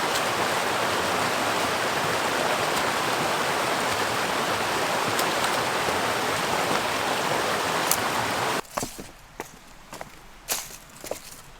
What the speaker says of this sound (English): that water's moving pretty fast, but at least it's not as deep as last time